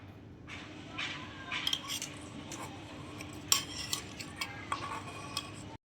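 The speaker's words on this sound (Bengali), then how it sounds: "এই ভাতটাকে এবার একটা প্লেটে ঢেলে নিই।" Cooked rice is scooped out of a small pot onto a plate in a miniature kitchen, giving soft clinks, taps and scrapes of a small utensil against metal and ceramic in a quiet room.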